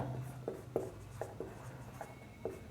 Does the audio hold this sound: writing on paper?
yes